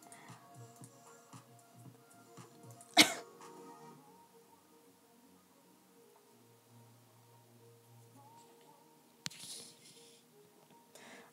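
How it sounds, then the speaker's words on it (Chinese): A single sharp, loud cough bursts out once against quiet room background, then fades into near-silence. "这样我咳嗽会很大声吗？"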